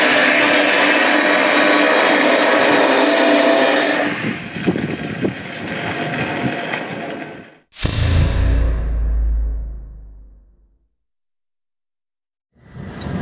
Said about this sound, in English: I'm going to get in with an older grinding disc that's got more of a point to it and just V it out a little bit before welding the outside.